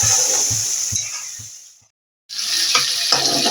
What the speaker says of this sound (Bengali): এইভাবে আমি কষিয়ে দিলাম।